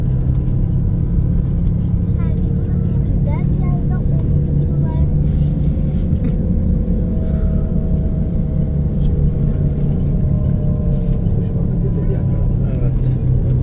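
Steady low engine rumble of a bus heard from inside the cabin while driving near Budva, Montenegro, continuous and loud, with faint background voices and road noise throughout.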